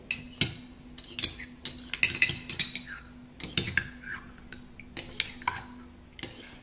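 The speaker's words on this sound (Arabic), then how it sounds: "نقوم بمزج صفار البيض مع العسل حتى الحصول على خليط متجانس" Utensil clinking against a bowl while egg yolk and honey are mixed together, a run of light, quick taps and scrapes close by, steady and repetitive with no talking.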